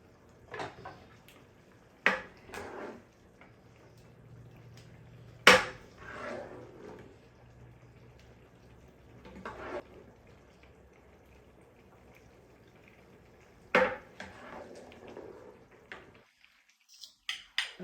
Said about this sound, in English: Let's dish it up into a bowl.